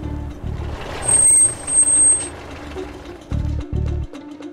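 A truck pulls to a stop with a sharp hiss of air brakes over a low rumbling engine, along with pulsing low tones and a high whine, all heard up close without talk.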